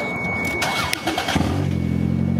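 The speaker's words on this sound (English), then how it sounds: "we are doing open header startup." A Toyota MR2 engine with open headers turns over and fires, then drops into a loud, throbbing idle with a raw, unmuffled rumble.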